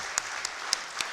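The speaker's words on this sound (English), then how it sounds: "can I have one big round of applause for everyone who made this possible?" Audience applause at a user experience talk, a steady wash of clapping with a few sharper individual claps standing out, moderately loud and brief with no talking.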